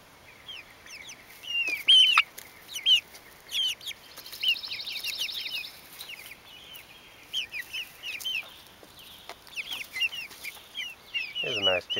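Chickens cluck and chatter steadily in a backyard flock, many short overlapping calls close by, with a brief low sound near the end.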